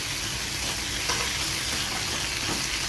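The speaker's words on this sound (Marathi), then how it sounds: "या भाजीमध्ये हे मी सुस्करलेले बटाटे टाकते याला अजून आपल्याला सुस्करायचं आहे छानपैकी" Boiled potatoes being mashed and stirred into a frying vegetable filling for masala dosa, a steady close sizzle with soft scraping and stirring noises running continuously.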